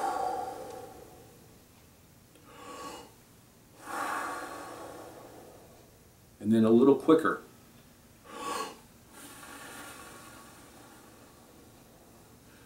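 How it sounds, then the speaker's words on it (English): A tuba player's practice breathing exercises: a few distinct breaths in and out spaced across the stretch, with one louder, rougher gasp-like inhale in the middle, close and clear, while someone talks between them. "So I'll start out in my practice session by just doing some easy breathing exercises, breathing in and out."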